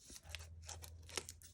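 Scissors slice through packaging from a seasonal subscription box, a series of close, crisp snipping and crunching cuts in an uneven rhythm, with no talking.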